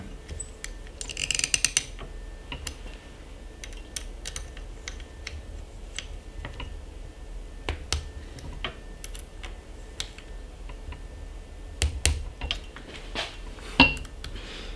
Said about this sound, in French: Et maintenant, on visse les deux dernières par collier.